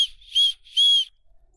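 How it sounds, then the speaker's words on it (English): Survival whistle built into a paracord bracelet, blown in three short, shrill, piercing blasts close to the microphone, each lasting about a quarter second with brief silent gaps between. "I also wanted to point out that there's a whistle included,"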